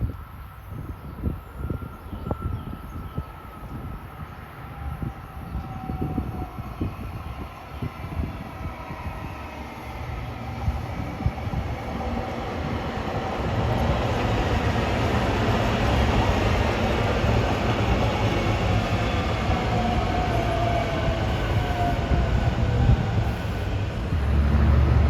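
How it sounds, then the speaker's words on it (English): A SEPTA Trenton-bound regional rail train arrives, its rumble swelling steadily from faint to loud and sustained, with rolling wheel and track noise building over the clip and no one speaking. "Here comes another Septa Trenton-bound train arriving with some more good stuff."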